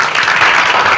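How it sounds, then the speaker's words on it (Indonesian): A short, loud burst of dense applause from a class clapping for a student group, steady and close throughout. "Luar biasa, tepuk tangan untuk kelompok 3."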